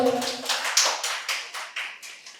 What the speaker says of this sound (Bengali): স্যারের জন্য জোরে একটা হাততালি হয়ে যাক